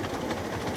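Miniature railway train running on a small-scale track, a steady rumbling rattle heard close up and alone with no talk, continuous through the short moment.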